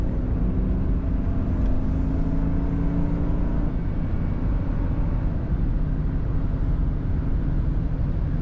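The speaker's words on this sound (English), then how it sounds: "Car corners as it should. Grips nicely in the corners." A 1997 Lincoln Town Car Executive Series driving through corners makes a steady, continuous low road and engine rumble with tire noise. It runs loud and unbroken the whole time, with no talk.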